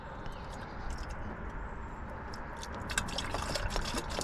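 Coolant is poured into the reservoir of an old Honda car, giving a soft, steady liquid trickle with faint splashes and drips that grow slightly louder toward the end.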